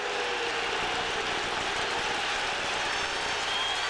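NFL crowd in a 1999 Giants at Patriots stadium game cheering after a replay challenge ruling, a steady, dense roar of applause and shouting that stays loud and continuous.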